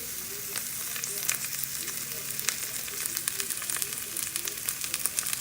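Steady sizzling of garlic frying in hot olive oil, with crackling pops scattered throughout, close and moderately loud.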